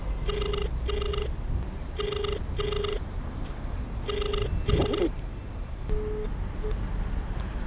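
A phone line rings while a call to a customer goes through: repeated double-burst ringback tones in an even rhythm, clear and fairly close, with low background hum between the rings.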